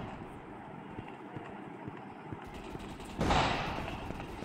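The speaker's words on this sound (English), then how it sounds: "Is that a shotgun? I believe that's a shotgun." A shotgun fires in a first-person shooter game: one loud, broadband blast lands near the end, followed by a short decaying tail over steady background game noise.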